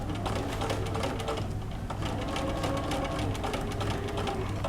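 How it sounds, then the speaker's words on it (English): A sewing machine runs continuously at a steady, rapid stitching rhythm while sewing in a zipper, loud and close, with short back-and-forth stitching and no voices over it. "then I'm going to back stitch, and then I'm going to go forward"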